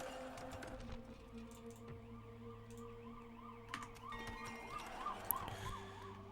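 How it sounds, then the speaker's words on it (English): An ambulance siren wails outside a window as the vehicle drives by, its rising and falling tone faint and distant beneath soft indoor computer typing and clicks. "an ambulance drives by my window"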